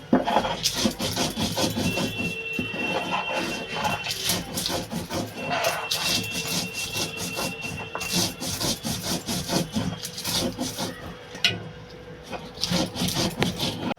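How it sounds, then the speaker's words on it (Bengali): Spice paste is ground with water on a traditional Bengali grinding stone, a loud, close, rhythmic scraping and rubbing of stone on stone, repeated back-and-forth strokes running continuously. "এই মশলাটা আমি শিলে বেটে নেব এটা বন্ধুরা আমি জল দিয়েই বাটবো"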